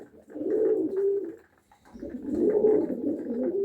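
Pigeons coo in two soft, rolling bursts separated by a short pause, close by and otherwise quiet.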